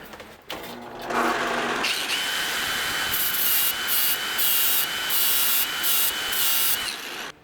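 A homemade metal lathe turning down a steel bolt for a Land Rover part, a steady high whine with a continuous cutting hiss that starts after a brief clunk and runs loudly throughout, fluctuating slightly near the end.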